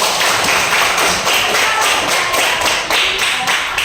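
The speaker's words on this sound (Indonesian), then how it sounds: "Tepuk tangan untuk kita semua." Children clap their hands in an elementary school classroom, a busy run of sharp close claps and taps with a loose, uneven rhythm, fairly loud and without talk.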